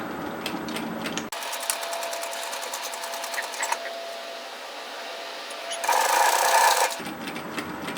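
A sewing machine runs a seam at presser-foot width on knit fabric for a teddy jacket. It sounds as a rapid, even mechanical patter in two bursts separated by a brief pause, close and fairly quiet, with no talking.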